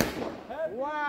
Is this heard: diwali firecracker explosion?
yes